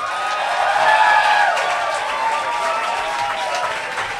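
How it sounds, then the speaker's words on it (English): A club crowd at Motorco applauds and cheers a poetry performer after a spoken-word piece, dense close clapping with shouts and whoops running throughout. "Another round of applause for Poetic Justice"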